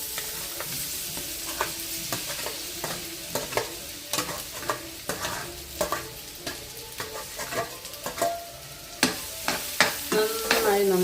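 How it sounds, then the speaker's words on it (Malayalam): Ripe plantain (nendran banana) frying in hot ghee, giving a steady soft sizzle broken by repeated clacks of a spatula stirring in the pan, close and moderately loud, with no talking. "നന്നായി നെയ്ക്കകത്തൊന്ന് ഫ്രൈ ആയി വന്നിട്ടുണ്ട്."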